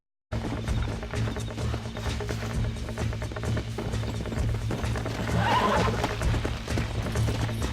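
A wild horse in the video game Red Dead Redemption neighs and whinnies while its hooves clip-clop steadily over a low game-music drone, with a louder whinny midway; close and continuous throughout.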